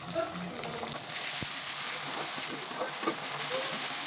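Ginger garlic paste frying in a pan for a raw jackfruit curry, with a continuous close sizzle that thickens partway through and a single light clack of utensil.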